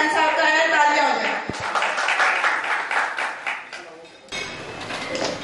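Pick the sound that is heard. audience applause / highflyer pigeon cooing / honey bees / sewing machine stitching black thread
audience applause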